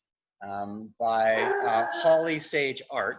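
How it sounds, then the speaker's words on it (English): A pet dog howls and whimpers in long, wavering, tonal cries close to the microphone, with a short gap before a sustained, rising and falling run of yips and howls, during an evening speaker presentation with a person talking. "So excuse my dog in the background."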